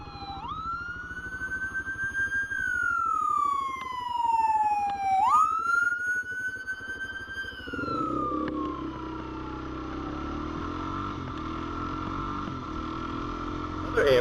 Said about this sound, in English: Another ambulance today.